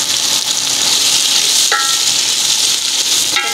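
Finely chopped onions, about six or seven of them, fry in a cup of oil with a loud, steady close-up sizzle throughout, broken by two brief clinks of a utensil.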